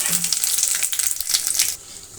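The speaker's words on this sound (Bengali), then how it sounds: "এখন তেলটা গরম হয়ে গেছে ভালো করে। এখন আমি দিয়ে দেবো খিচুড়ির জন্য এই যে ফোড়ন" Whole spices for khichuri, including panch phoron, cumin seeds, dried red chilli and bay leaves, hit hot oil and crackle in a loud, bright sizzle that suddenly softens near the end.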